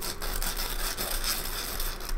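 A super-fine-grit abrasive is rubbed slowly over a metal IC reballing stencil, giving a close, continuous scratchy sanding with steady back-and-forth strokes and no talking.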